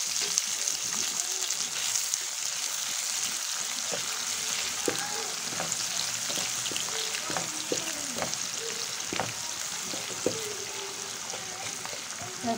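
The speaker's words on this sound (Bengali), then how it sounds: "এখন আমি কাঁচা মরিচ দিয়ে দেব।" Green chillies fry in hot oil for a water spinach dish, giving a continuous close sizzle with scattered scrapes and taps of a spatula stirring the pan.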